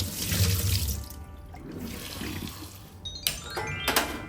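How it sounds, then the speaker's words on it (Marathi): Moringa drumsticks and chana dal are rinsed under a running kitchen tap, a steady close rush of water with splashes and shifting flow, briefly cutting off and restarting near the end, with no talk. "आता हे आपण स्वच्छ धुवून घेऊया छान मस्त."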